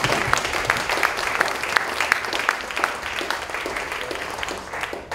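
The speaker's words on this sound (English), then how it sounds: "Give him a round of applause." A small audience applauds a speaker at a startup tech meetup, a brisk, even patter of clapping with a few louder individual claps, held steady for a few seconds.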